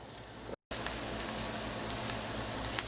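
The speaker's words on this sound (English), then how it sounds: "our onions are browning really perfectly" Onions brown in a pan for tofu rice with crispy onions, giving a dense crackling sizzle with a few sharper pops. The hiss cuts out briefly near the start, then runs steadily and closely to the end.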